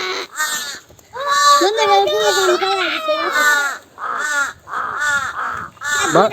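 Repeated loud crow caws, harsh and insistent, come in several bursts with brief pauses between them.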